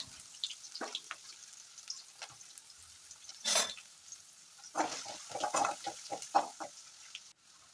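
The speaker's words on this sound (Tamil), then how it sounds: "இப்போ கட் பண்ணி வச்சுருக்கிற வெங்காயத்தை சேர்த்து நல்லா வதக்கிக்கோங்க" Chopped onions sauté in a hot pan with oil and curry leaves for a carrot thuruval, crackling and sizzling softly while a spoon stirs and scrapes in several short clattering bursts, up close.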